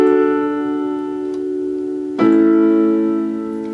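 Sustained piano chords for the bridge of a song: one chord rings and decays, then a new chord is struck just past the midpoint and rings on, played alone without voices.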